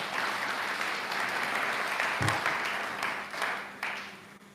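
A live audience gives dense, sustained applause that stays loud and fairly near throughout, with a few sharper claps standing out before it begins to thin at the end.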